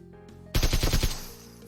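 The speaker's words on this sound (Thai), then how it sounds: "ว้าวเดี๋ยวลองยิงกระจกนะ" A short rapid burst of about six gunshots fired at glass in PUBG Mobile, loud and close, punching in after a quiet moment and trailing off into a brief ringing tail.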